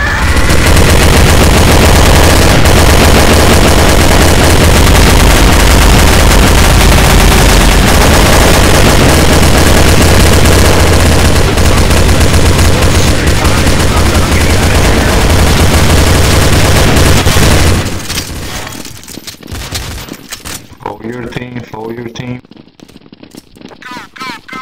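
Rapid, loud automatic gunfire rattles almost continuously in a Counter-Strike: Source zombie escape map, then cuts off abruptly near the end, leaving scattered fainter shots and game sounds.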